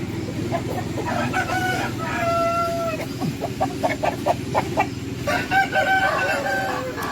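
Several pedigree roosters in a farm garden crow in long drawn calls overlapping one another, with clucking and short bursts of chicken calls around them, loud and close against a busy background.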